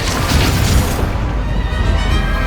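A Bombarda blasting spell bursting in the wizarding game Hogwarts Legacy, a loud booming explosion with a crashing impact that rolls off into a dull rumbling tail.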